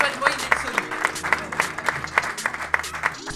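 An audience applauds and welcomes former Ligue 1 footballer Sonny Anderson with rhythmic clapping, the claps landing in a fairly regular beat, while a voice and low musical tones run underneath.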